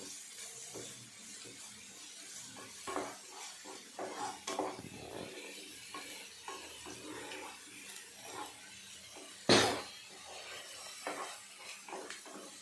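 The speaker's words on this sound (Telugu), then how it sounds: "అల్లం వెల్లుల్లి బాగా వేగాలి" Ginger-garlic paste frying in a pan for chicken curry gives a low, steady sizzle with intermittent stirring scrapes and clatters, one sharp loud knock near the end, close by and without speech.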